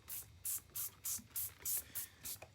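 Eight quick, evenly spaced squirts of denatured alcohol from a spray bottle, each a short hissing burst, fairly close and quiet, with no voices.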